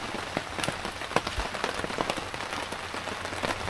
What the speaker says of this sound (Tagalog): Umaambon pa rin, umulan pa rin, pero hindi na masyadong malakas yung ulan.